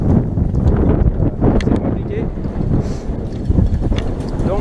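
Strong, gusty wind buffets the microphone of a cyclist riding into a headwind, producing a loud, continuous low roar and rumble with fluctuating gusts throughout.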